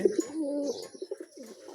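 White Lakkha Mayurponkhi pigeons give a soft, brief coo, a low rolling call followed by a few faint throaty notes nearby.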